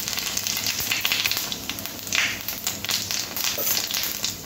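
Cumin, bay leaf and dried chillies temper in hot oil with a continuous crackling sizzle, close and fairly even, with brief louder pops.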